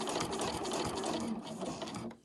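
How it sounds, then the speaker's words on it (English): A sewing machine stitches a seam on an overlocker cover, a steady fast mechanical whir with rhythmic needle clatter, close and fairly quiet, slowing and stopping at the end. "So I just continue to sew along"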